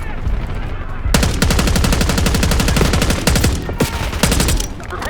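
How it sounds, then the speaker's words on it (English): Sustained automatic gunfire from a Call of Duty Black Ops 6 campaign firefight, loud and dense rapid bursts starting after a quieter first second, with a brief lull near the end and some faint voices mixed in. "We've got gunfire to the right."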